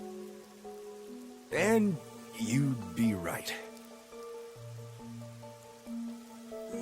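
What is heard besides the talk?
rain falling in video game Rain Code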